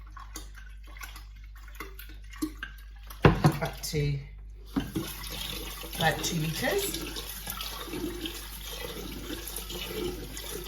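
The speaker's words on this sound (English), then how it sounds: "And then once it's dissolved, I'll add cold water" Cold water running from a tap into a container of dissolved sugar for water kefir, a steady rushing pour that starts partway in and continues under a woman's speech.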